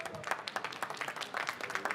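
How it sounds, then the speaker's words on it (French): Audience at a French coffee championship brewing competition applauding the judges, a short burst of close, rhythmic clapping with distinct individual claps and some voices mixed in. "On peut applaudir les juges, mesdames,"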